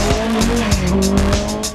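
Historic rally car up to 1974 on a 2010 Ulster Rally stage passes at speed, its engine howling through rapid gear changes, with close, loud, steady noise and no voices.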